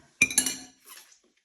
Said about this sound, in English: Get as much as I can off the spoon